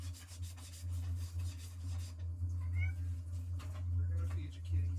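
A hungry cat meows indoors while waiting to be fed, giving a couple of short, fairly close meows over a steady low household hum, with a person talking softly nearby.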